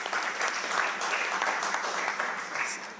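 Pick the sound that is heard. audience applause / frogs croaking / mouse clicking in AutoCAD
audience applause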